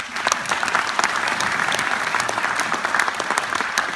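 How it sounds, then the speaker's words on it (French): Lively audience applause greets the newly elected Reines des Sables at Les Sables d'Olonne, a dense, steady clatter of many hands clapping nearby for several seconds with no voices on top. "nos reines qui sont fraîchement élues depuis Pâques, et ça mérite effectivement des applaudissements"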